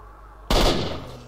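A single loud gunshot in S.T.A.L.K.E.R.: Shadow of Chernobyl, cracking sharply out of a quiet background and ringing away in a fading echo.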